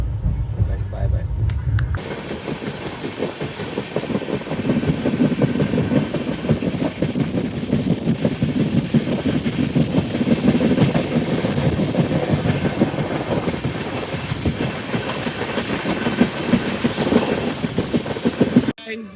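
A passenger train pulling out of the station and rolling on, giving a steady, loud rumble with continuous rattling and clatter throughout; a brief different low sound opens the stretch before the running noise settles in.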